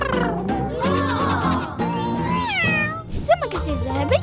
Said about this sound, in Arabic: والآن قطتي